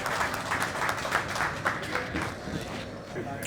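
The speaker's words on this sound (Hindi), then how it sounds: "प्लीज़ जोरदार तालियां शिवशंकर जी को।" A crowd applauds an honoree at a UPCDWA gathering, dense close clapping that holds steady for a few seconds while a voice speaks over it.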